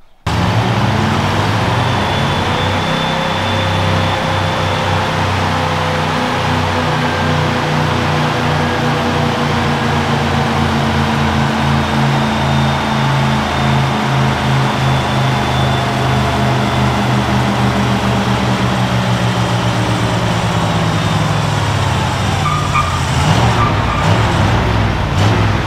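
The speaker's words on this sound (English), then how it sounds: "We gotta try to do a burnout in it." A Ford Bronco attempts a burnout, its engine revving hard and steady alongside a continuous loud road-vehicle drone, with rising and falling engine tones running through the whole stretch and no talk.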